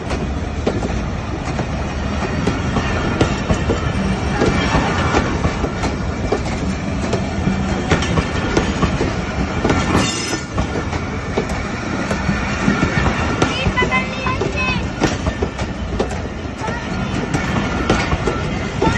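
Train passing at a Pakistani railway station on the Multan to Rawalpindi line, a loud continuous rumble with rhythmic clickety-clack of wheels over rail joints, and soft voices now and then underneath.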